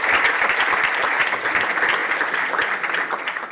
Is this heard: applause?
yes